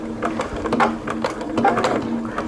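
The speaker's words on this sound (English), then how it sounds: "now you want to turn this and stitch across the end of that binding strip" A sewing machine stitches across the end of a towel binding strip for an oven mitt, its needle chattering in quick, close, rhythmic bursts with no speech.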